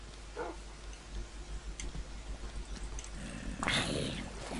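A dog in the video game Minecraft gives a few short yelps and whimpers, scattered amid game sounds, with a voice speaking over it.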